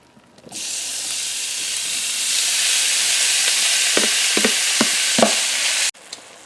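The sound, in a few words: beef browning and sizzling in a stir fry pan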